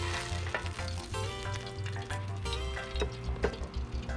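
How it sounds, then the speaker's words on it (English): Peppers and onions sauté in a pan with a bright, crackling sizzle, close and steady. Occasional louder pops and stirring scrapes break through. "We're gonna lightly saute some vegetables, some peppers and onions."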